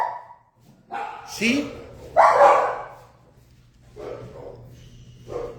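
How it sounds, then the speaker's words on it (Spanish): A dog barks outside in short yips and barks, mixed in with someone speaking nearby, the barks sounding moderately loud and somewhat distant in a quiet indoor room. "un perrito que ladra afuera"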